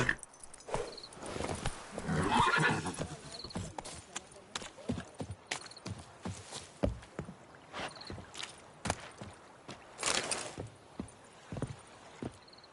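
Hoofbeats of the horse Roach in the game Witcher III, moving at a steady clip-clop for several seconds with an occasional snort or neigh, faint background noise throughout.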